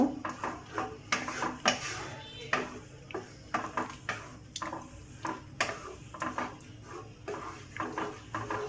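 Vegetables being stirred in a pan for white sauce chicken pasta, giving irregular clinks and scrapes of a utensil against the pan with soft sizzling and wet squishing between strikes, close and fairly quiet.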